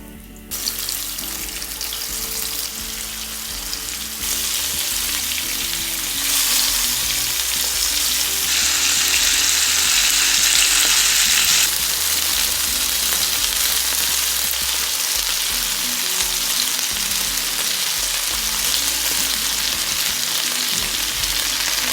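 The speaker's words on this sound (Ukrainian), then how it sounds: "На сковорідку вливаю олію, добре прогріваю і викладаю печінку." Loud, steady sizzling and crackling of pork liver frying in hot oil in a pan, continuous throughout with no talking.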